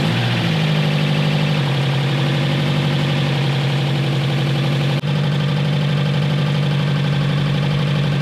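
A car engine fitted with a newly installed oil cooler starts and settles into a loud, steady close-up idle with a constant low rumble and slight knocking vibration.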